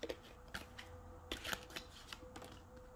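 Tarot cards being shuffled by hand, a series of crisp riffling flutters and soft slaps at an uneven rhythm, close and fairly quiet, with a faint tone underneath and no talking.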